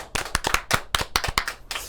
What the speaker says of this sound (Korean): 정답 박수. 박수.